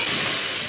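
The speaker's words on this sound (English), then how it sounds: "There's the boiler, there's a triple expansion steam engine." Loud, steady hiss of escaping steam from a boiler and triple expansion steam engine once fitted in a 1910 Sydney Harbour ferry, a broad continuous rush heard close up.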